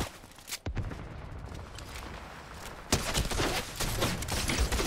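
Gunfire in Fortnite, a few sharp shots followed by a busier burst of rapid firing over background game noise.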